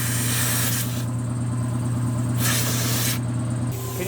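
Steady, loud air hiss from a leaking drain at the bottom of a home-built air compressor assembled from random parts, running continuously with a low machine hum beneath and brief dips in the upper hiss.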